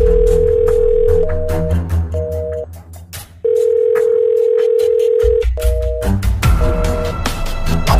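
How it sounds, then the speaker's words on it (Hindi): A telephone call rings out with a steady tone in repeated bursts, loud and close, separated by brief gaps, alongside a low background rumble. "अपने मोटा को फोन लगाती है"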